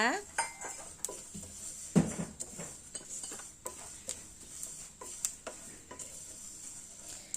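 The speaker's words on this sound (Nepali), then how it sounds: "अब भुट्नुपर्छ एकछिन। भुटेको मसला चाहिँ अचारमा असाध्यै मिठो हुन्छ।" Cumin, fennel and coriander seeds roasting in a metal pan for mango pickle, stirred with a spoon that clanks and scrapes repeatedly in an irregular rhythm, fairly close, with a soft hiss underneath.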